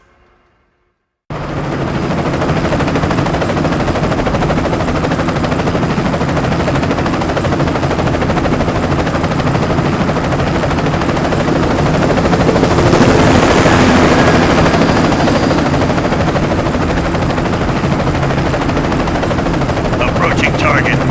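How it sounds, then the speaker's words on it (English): Helicopter gunships from the video game BloodRayne 2 roar steadily and loudly after a brief silent start, a dense rotor and engine wash with a swell near the middle, and voices speak over the din. "Airborne gunships, my lord."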